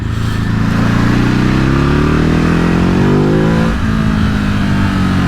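A Ducati HyperMotard 950 SP motorcycle engine revs loudly and close, its pitch climbing smoothly for several seconds before dropping sharply at a gear change and pulling again.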